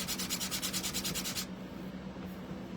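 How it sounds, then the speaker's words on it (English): Quiet rhythmic back-and-forth strokes of light hand sanding on a laser-cut craft piece for a spring duck decoration, about a dozen quick rubs that stop halfway, leaving soft rustling. "Just going to lightly sand it."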